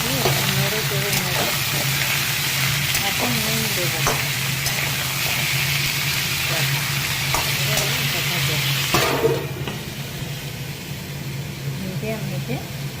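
Washed chicken pieces dropped into lightly fried onions in a hot pan for a raw mango chicken dish, giving a steady loud sizzle with scraping stirs throughout. A voice talks over it, and the sizzle softens near the end.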